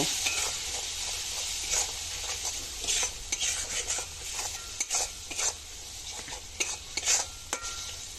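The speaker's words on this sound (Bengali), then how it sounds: "পরিমাণ মতো লবণ হলুদ লঙ্কার গুঁড়ো জিরের গুঁড়ো ও ধনের গুঁড়ো দিয়ে বেশ কিছুক্ষণ ধরে কষিয়ে নেব" Salt, turmeric, chili, cumin and coriander powders frying for pabda fish curry make a steady, close sizzle, broken by repeated scraping strokes of a spoon stirring in the pan.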